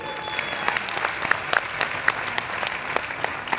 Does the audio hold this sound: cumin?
no